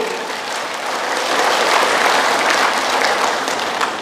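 Congregation at a church service applauding, a loud, dense burst of clapping that builds and stays strong throughout, close and with no talking.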